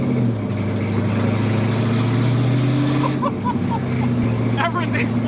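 A Chevy Camaro Z28 1LE race car accelerates in third gear, its engine giving a loud, steady, close drone that holds strong throughout with no pause.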